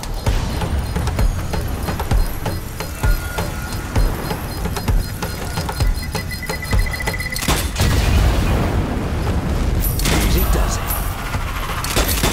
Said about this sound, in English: Dynamite out! Fire in the hole!